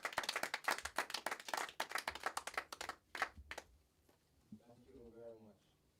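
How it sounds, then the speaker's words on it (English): A small workshop audience claps to welcome the teacher at a reggae beats workshop, with quick, close, uneven handclaps that fade out after about three seconds, then a voice speaks. "Give him a round of applause as he comes to teach us."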